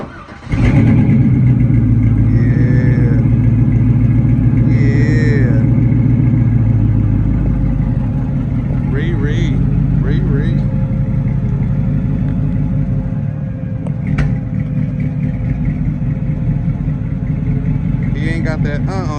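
An LS1-swapped G-body Chevrolet Malibu with a 5.7L V8, 4L60E transmission and newly finished exhaust rumbles loudly and steadily throughout while driving, with a deep, continuous low drone and people talking over it.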